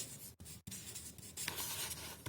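Pen scratching on paper while working out a math problem, soft close continuous strokes with brief pauses, faint and without voices.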